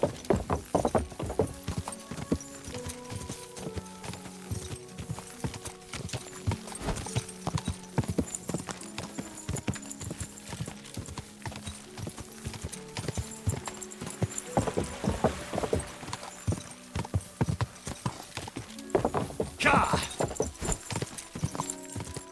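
Horse hooves clip-clop at a steady walking rhythm as a horse is ridden in a video game, with occasional brief whinnies and a few louder hoof strikes near the end.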